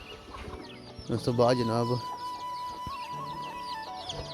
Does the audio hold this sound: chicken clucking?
yes